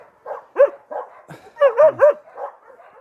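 A Yakut hunting laika dog, a female, barks repeatedly in short sharp yelps at an uneven rhythm, some closely bunched, loud and near with no voices over them.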